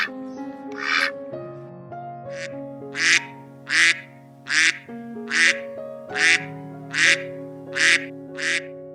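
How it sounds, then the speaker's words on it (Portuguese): A duck quacks about ten times in a fairly regular rhythm, clear and close, over a soft sustained musical backing, as part of a farm animal sound sequence. "Ele faz quack-quack"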